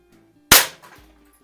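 A single sharp air rifle crack rings out, followed by a brief metallic clatter as the pellet disintegrates on a steel target with faint debris, loud and close in an otherwise quiet setting.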